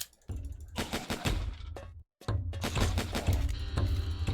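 Rapid, loud video game gunfire rattles in dense automatic bursts, breaks off for a moment of silence, then resumes in another sustained stream of clattering shots.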